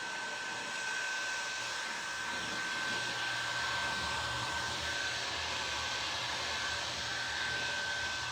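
A hair dryer runs steadily to dry paint on a thrifted item, giving a constant, faint whirring hiss with a thin high whine on top. It sounds close to the microphone, and no one speaks.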